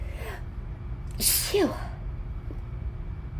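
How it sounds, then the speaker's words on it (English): A single sharp sneeze with a sudden gasping intake, loud and close, followed by a short exhale against a steady low background hum. "Excuse me, have to sneeze."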